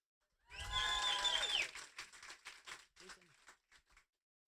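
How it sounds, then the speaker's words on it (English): A room audience cheers loudly at a live-streamed event, a burst of shouts, whistles and applause that swells for about a second, then breaks into scattered, fading claps and calls. "I'm going to ask everyone in the room to give a bit of a loud cheer to those who are aligned on the stream"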